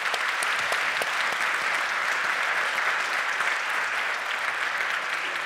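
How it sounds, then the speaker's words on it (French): An audience at a round-table conference session applauds a presented piece of work with steady, dense clapping that holds at an even level throughout, with no voices over it. "Je vous demande de l'applaudir parce que c'était un très beau travail"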